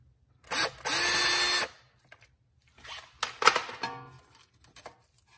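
A ratchet loosens a 10mm wheel speed sensor bolt at the front of a Porsche Cayman 987, clicking in two short bursts with pauses between, close and fairly crisp.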